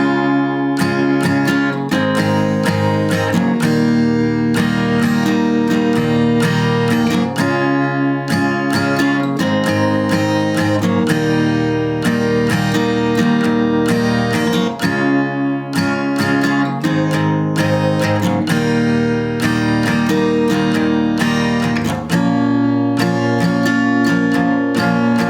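Guitar strummed through the chorus of a song, played steadily and loudly in a repeating rhythmic pattern with no talking.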